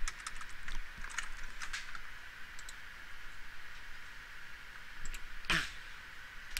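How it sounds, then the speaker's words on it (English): Typing on a computer keyboard while setting up a Java button program: sparse, quiet clicks and taps at irregular intervals, with one louder keystroke near the end, over a faint steady hum and no talk. "I can actually type something, right?"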